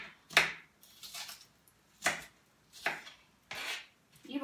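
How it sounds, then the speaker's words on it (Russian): A knife chopping onion into half rings on a board, six crisp, separate strokes at an uneven pace, close and clear with quiet gaps between them. "Итак, я режу полукольцами лук."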